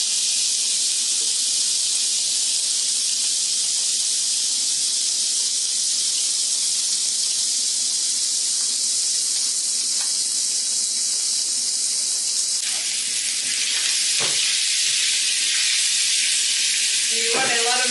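Scallops searing in a hot pan give a steady, loud sizzle and hiss that runs unbroken throughout, with a few brief clatters near the end.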